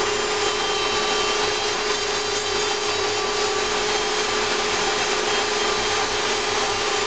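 A vacuum cleaner runs steadily and loudly close by as it sucks up leather dust while leather edges are thinned for a handbag, a constant unbroken roar with no pauses.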